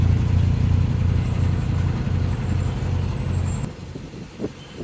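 A narrowboat engine revs up to 1400 RPM near a canal lock, rumbling steadily up close with a deep throbbing drone, then drops noticeably quieter near the end.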